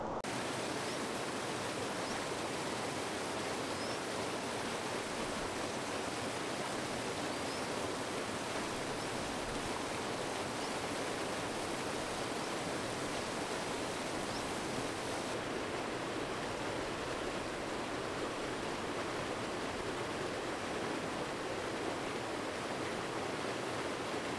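Small waterfall beside a river, a steady broadband rush of falling water running unbroken and fairly close throughout, with no voices.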